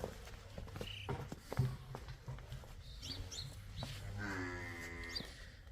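A buffalo heifer at a farm for sale lows in a long, clear call near the end, after scattered footsteps and shuffling in the shed, with a low steady hum throughout.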